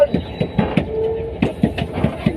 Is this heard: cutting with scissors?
no